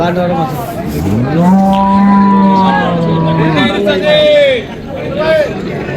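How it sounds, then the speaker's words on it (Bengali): A Friesian cow moos loudly and close at a cattle market, a long drawn-out low call followed by shorter calls, with faint crowd chatter in the background. "বাছুর হচ্ছে এইটা বেটা বাছুর।"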